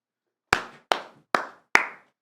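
Four separate, sharp claps ring out at an even pace from a single source close by, each leaving a short room echo and then silence, for a champion of the Red Bull competition.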